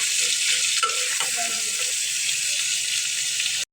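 Hilsa fish pieces sizzle and fry in a pan with a steady, bright crackle, a few soft clinks of stirring near the start, no voices.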